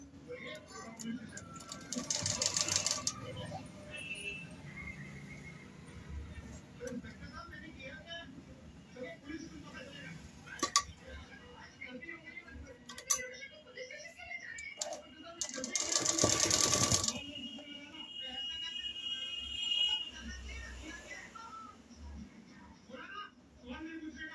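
Sewing machine stitching fabric for a baby dress, with short bursts of rapid mechanical clatter separated by pauses, fairly faint and close, with someone talking throughout.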